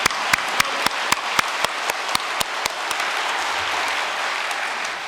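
A church congregation at a New Year's prayer service applauds together, a dense wash of many hands clapping with some louder individual claps standing out, steady for several seconds.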